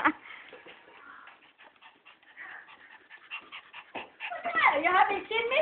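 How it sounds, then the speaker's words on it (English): A dog whimpers and yips excitedly, with whining cries growing louder toward the end, while a person speaks nearby. "Oh, look, the little one's barking too."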